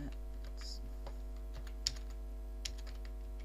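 Keystrokes on a computer keyboard, a scattered run of light clicks with one or two sharper taps, heard over a steady low electrical hum with no talking.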